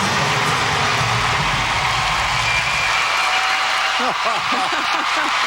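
A large arena crowd applauds a ladies' figure skating short program at the world championships, a continuous loud wash of clapping and cheering, with a commentator's voice coming in over it near the end.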